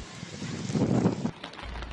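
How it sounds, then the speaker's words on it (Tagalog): Strong typhoon wind from Typhoon Opong roars steadily across Calatrava, Romblon, thrashing trees and plants, a loud continuous gusting rush that swells and then drops off abruptly near the end. "Sa Calatrava ay winasiwas ng hangin ang mga puno't halaman."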